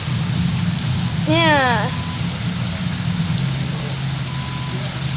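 Heavy rain pours outside in a steady, even hiss that fills the whole stretch, with a brief bird chirp early on and a single short spoken word.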